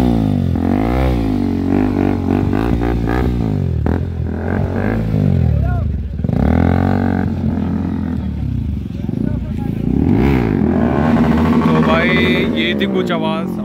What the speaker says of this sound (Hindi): थी कुछ आवाज़ RC 200 रेसिंग एडिशन की